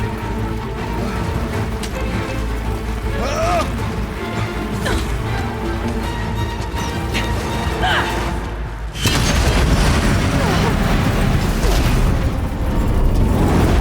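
Explosive ammo blasts going off in the Horizon Zero Dawn: The Frozen Wilds game, heavy booming crashes that roll continuously, with a louder sustained burst of rumbling impact after the midpoint, and a voice shouting over the action.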